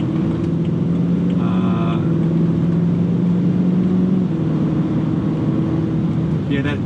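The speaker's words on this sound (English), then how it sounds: "That is a proper V8." A BMW M3 V8 engine rumbles steadily, its pitch shifting slightly as it revs, loud and close, with faint voices underneath.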